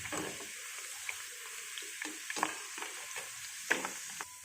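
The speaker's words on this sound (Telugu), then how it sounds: "ఇలా ఫ్రై చేసుకోవాలి." Sliced bitter gourd fries in a pan until reddish, a quiet sizzle under repeated clinks and scrapes of a stirring utensil, heard close with no one speaking.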